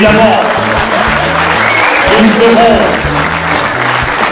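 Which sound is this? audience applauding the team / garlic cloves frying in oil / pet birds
audience applauding the team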